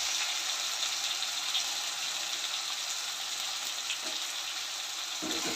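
Chopped onion, tomato and green plantain sizzle and fry steadily in a pan, a continuous bright crackle that holds at even loudness throughout with no talk.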